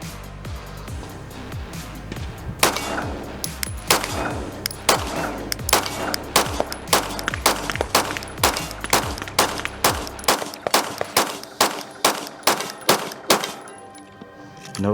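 A pistol built on a Nomad Defense Gen 4 style frame fires a long string of gunshots, loud sharp reports in a steady rapid rhythm, each followed by a brief ringing decay, with a pause near the end.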